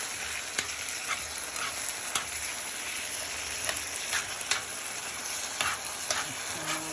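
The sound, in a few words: taco filling stirred in a sticking non-stick pan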